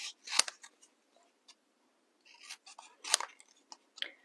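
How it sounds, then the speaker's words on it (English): Scissors cutting paper by hand in straight lines for a card, with faint, crisp snips in short clusters and a quiet pause between them. "And then this one I'm going to hand cut."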